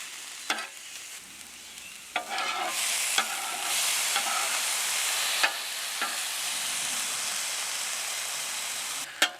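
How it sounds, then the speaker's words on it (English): Tomatoes, green chilies and onions cooking on a Blackstone portable griddle give off a steady broad hiss of sizzling, punctuated by occasional scraping stirs, close and continuous with no talking. "the tomatoes and the green chilies don't really have to cook too much. They just need to get nice and hot."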